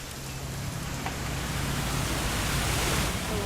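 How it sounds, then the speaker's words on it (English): Continuous rain pours down outdoors, a broad, steady wash of noise that swells slightly louder toward the end, with no one speaking. "gonna rain the whole weekend"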